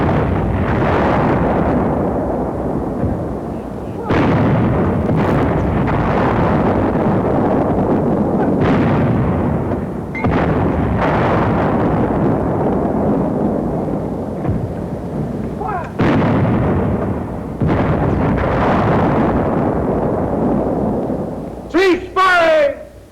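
Heavy weapon shots blast a 4-foot-thick roadblock on a firing range, loud booming reports with long rumbling tails repeating at irregular intervals, with a few sharper cracks near the end.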